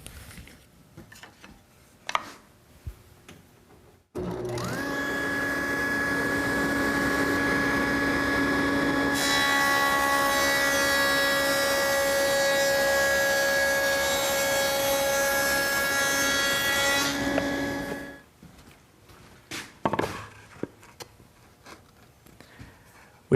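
A Freud dado set on a saw cuts a rabbet in wood with a loud, sustained whine that runs for about fourteen seconds, then spins down. Faint handling sounds come before and after.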